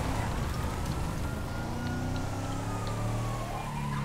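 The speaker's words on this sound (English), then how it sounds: "Like fire engines and whoa." A video game fire engine siren in Grand Theft Auto V wails, rising and falling over loud rumbling engine and road noise, close and continuous, with no talking.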